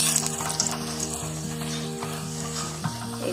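A tul tule paratha fries in hot oil in a kadai, giving off a continuous, close, fairly loud sizzle with small crackles and an underlying steady hum.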